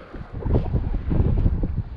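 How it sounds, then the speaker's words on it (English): Strong gusty wind buffets the microphone during fishing by the water, a loud low rumbling roar that swells and fades in uneven bursts. "This is just way too windy."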